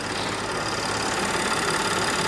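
A 2013 Dodge Durango R/T engine idles steadily nearby with a low, even rumble and faint ticking, with no talk over it.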